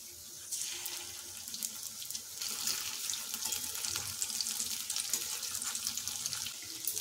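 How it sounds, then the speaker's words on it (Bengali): Mocha (banana flower) koftas frying in hot oil give off a steady, dense sizzle that holds evenly from start to finish with no voices. "কোপ্তাগুলো উল্টে পাল্টে ভালো করে ভেজে নিলাম।"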